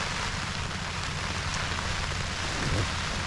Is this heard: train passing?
no